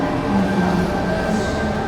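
A double-decker subway train in Sydney rumbles steadily, with a constant low roar and a faint tonal whine throughout. No voices are heard over it.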